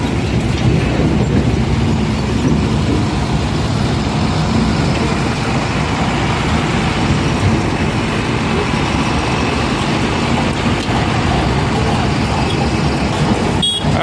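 A train rolls loudly and steadily past a railway level crossing, with continuous rumble and rhythmic clickety-clack of wheels on rails, along with faint squeals, for the whole stretch and no talking.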